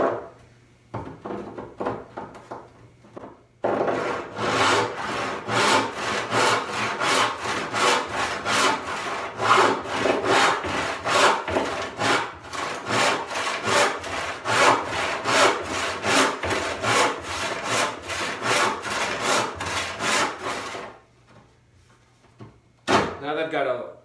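A wood slab hand-sawn to rough dimensions, a long run of steady rhythmic push-pull strokes, close and loud, rasping for about seventeen seconds before stopping, with a single knock at the very end.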